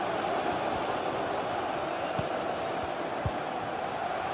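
Stadium crowd noise in a football video game, a broad continuous roar of many voices at an even level with a few dull thumps beneath it.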